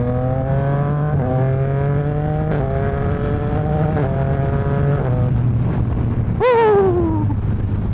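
A 2026 Yamaha R9 sport motorcycle fitted with a Dominator GP3 full exhaust system, revving up through repeated rising pulls over a steady idle, a loud sharp rev near the end, then dropping back, heard close with no talk.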